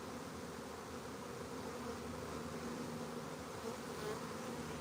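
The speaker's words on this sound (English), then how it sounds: "Look at how many bees are out here compared to what it was at the beginning." A swarm of honeybees buzzes outdoors on a homestead farm, a dense continuous droning hum of many insects, faint and steady throughout with no talking.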